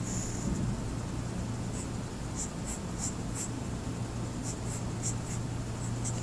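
A pen scratches across paper while drawing a small radio tower diagram for a trigonometry problem, with quick close strokes and short bursts of scribbling over a faint steady hum.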